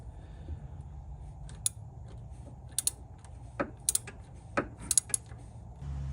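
A ratchet wrench clicks in short, sharp bursts while loosening the timing belt adjuster bolt on a 2002 Mazda Protege LX, close and sparse metallic ticks over a quiet background.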